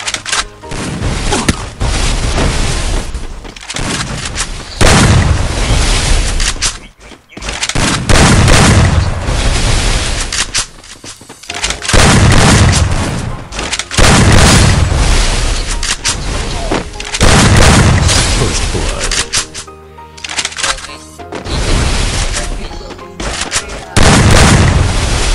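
Repeated loud video-game explosions boom one after another, each a heavy rumbling burst, with bursts of gunfire-like crackling between them.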